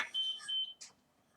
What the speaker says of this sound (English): Anyone else hear the beep?